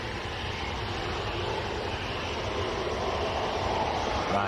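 An Air Algeria Boeing 737-700 passenger jet arriving at Manchester Airport, a steady broadband jet roar heard from a distance, even and continuous with no voices.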